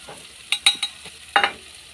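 Masala for a fish curry being stirred as it fries in a pan: a few brief scraping strokes of a spoon over a faint low sizzle, with quiet gaps between.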